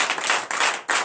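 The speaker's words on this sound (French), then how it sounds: "donnez une vive acclamation" Congregation at a night deliverance church service bursting into clapping and cheering, three dense surges of hand claps and acclamation, close and lively.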